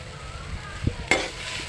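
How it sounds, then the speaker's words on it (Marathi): Onion roasting in a pan for Malvani onion-coconut masala, a low crackle with a couple of quick spatula scrapes and a brief brighter burst, close and quiet, no one speaking. "जरा जरा कांदा लालसर होत आहे"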